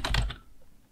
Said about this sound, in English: we're going to type in smallpixel